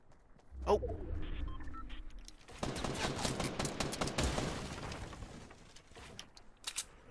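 Rapid bursts of gunfire in a Fortnite Season 5 Score Royale match, starting after a brief low thump and continuing densely for several seconds, fairly close and loud, with a few sharper cracks near the end.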